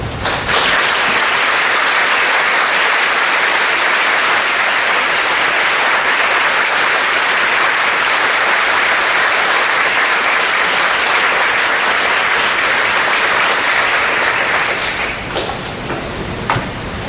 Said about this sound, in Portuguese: Pelas palmas, pela participação do nosso público